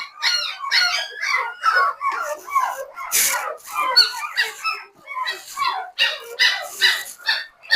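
A mother dog with a big new litter of puppies yelps and whimpers in quick, high, close bursts, a steady run of squeaky cries and short barks.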